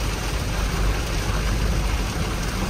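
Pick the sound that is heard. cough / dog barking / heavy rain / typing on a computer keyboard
heavy rain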